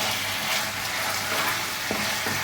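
Korean fried chicken pieces frying in hot oil over medium heat, a steady loud sizzle and crackle with occasional stirring clinks.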